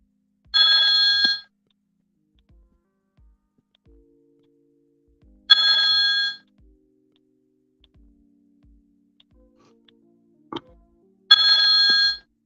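An outgoing phone call rings out as three bright electronic ring bursts spaced about five seconds apart, with faint ticking and small clicks in the near-silent gaps and no voices.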